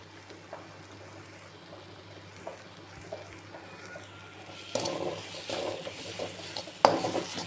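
Potato gravy paste is stirred and sautéed in a pan, starting with soft scraping and light sizzling, then louder from midway as utensil scrapes and clinks join a stronger fry, with one sharp knock near the end.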